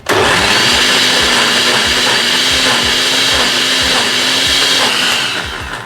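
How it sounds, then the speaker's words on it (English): A blender whirs loud and steady up close, churning sweet potatoes with coconut milk for a Jamaican sweet potato pudding, its motor droning without a break before easing off at the end. "we're not supposed to run the blender more than 3 minutes, right, Daddy?"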